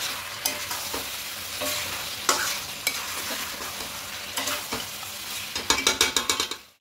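Kadai chicken masala being stir-fried with sugar, a spatula scraping and clacking against the pan over steady sizzling, with a quick burst of metal taps near the end.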